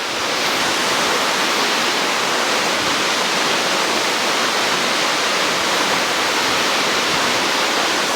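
Waterfall heard up close as a loud, unbroken hiss of rushing water that stays steady throughout.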